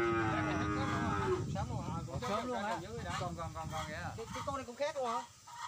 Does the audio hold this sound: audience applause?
no